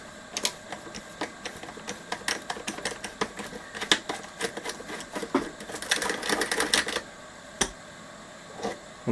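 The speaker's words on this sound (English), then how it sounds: "Just going to go with the 8mm socket." A ratchet with an 8mm socket undoing a nut on a high-end audio pre-amp: rapid, close, dry clicking ratchet strokes in irregular bursts with brief pauses between them, and no talking.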